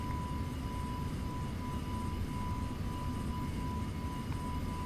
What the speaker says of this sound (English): The aircraft is now accelerating.